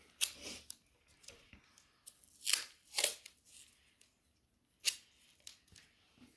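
Adhesive tape torn off the roll in short, sharp rips while ears are posted with bamboo sticks on a Doberman, several quick crackling tears spaced irregularly at close range.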